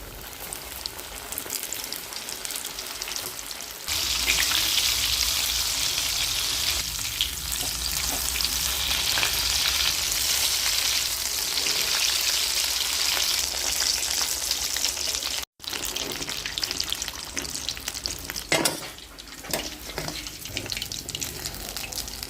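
Prepared pieces are dropped into hot oil and fry with a loud, steady close sizzle. It swells sharply once they go in and carries on with an occasional clink or stir, and no one speaks.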